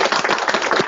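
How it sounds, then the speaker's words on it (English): A brief burst of close, loud clapping from a small audience, a rapid patter of many hands lasting under a second. "I think we'll just have a quick round of applause."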